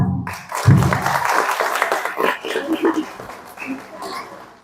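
A crowd applauds and cheers at a school English speech contest, scattered clapping mixed with voices, loud at first and then thinning out.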